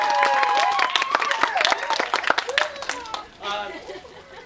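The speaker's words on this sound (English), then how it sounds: "Round of applause for that." Applause and scattered cheers from an audience at an improv comedy show in an amphitheater, close and lively at first, then thinning into lighter claps under a voice.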